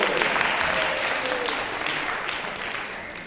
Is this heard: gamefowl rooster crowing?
no